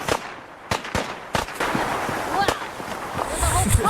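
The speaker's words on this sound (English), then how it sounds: "Laser rifle sounds fine." Laser rifle firing, a series of sharp, crackling zaps in an uneven rhythm, about seven distinct shots over a noisy background, with a voice speaking briefly near the end.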